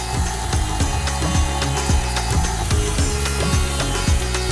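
An electric mixer running on low speed works milk, vanilla essence, eggs and other ingredients into a chocolate cake batter, giving a steady motor whir with rhythmic knocking of beaters against the bowl, close and continuous with no talking.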